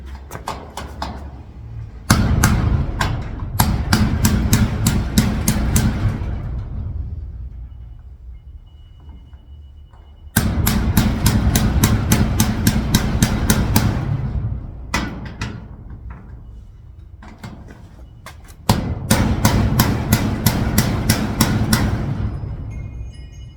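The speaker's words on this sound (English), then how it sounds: "now I gotta keep pounding it till I get it up there in the right spot" A metal socket is hammered against a garage door lock push pin to drive it into place, in three clusters of sharp, ringing metallic blows. Each burst packs rapid strikes and is separated by quieter pauses.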